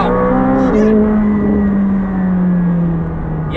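McLaren 765LT supercar launching hard under launch control, a loud continuous engine roar with a brief slight wheelspin, then steadily climbing revs that hold strong for several seconds; faint voices barely surface.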